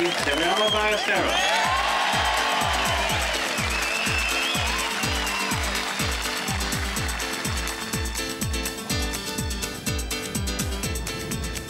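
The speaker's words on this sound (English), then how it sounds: "Muted applause" Muted golf-gallery applause at the 1991 Open Championship at Royal Birkdale: a steady, continuous patter of many hands clapping throughout, with a voice talking over it.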